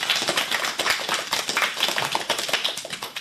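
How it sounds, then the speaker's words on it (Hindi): Children's performance at a girls' school program draws clapping, a close, uneven burst of individual hand claps from a smallish group, sharp separate slaps pulsing irregularly throughout. "बहुत ही शानदार प्रस्तुति के लिए जोरदार तालियां"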